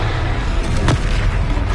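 Confringo spell blast from the Hogwarts Legacy video game on PS5, a single heavy boom-like burst near the middle over dense loud game noise.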